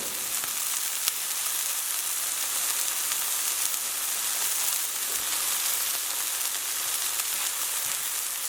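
Chicken pieces sizzle and fry steadily in a pan over a low to medium flame, a dense, even crackle that holds at a constant level, close by, with no talking.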